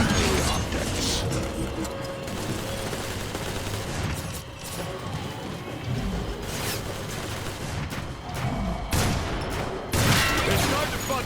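Sustained gunfire from the Transformers: War for Cybertron video game, with dense bursts of shooting and mechanical clanks running continuously at steady loudness, and sharper blasts near the end, with some voice mixed in.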